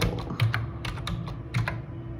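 Numbers are being typed on a computer keyboard to run a bubble sort program, heard as close, crisp key clicks in an uneven rhythm. Two slightly heavier presses stand out, and no one speaks.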